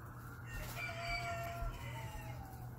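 A rooster crows once at a distance, faint against a low steady background hum.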